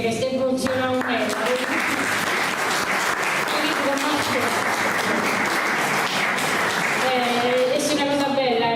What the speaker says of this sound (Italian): Un applauso a Mariello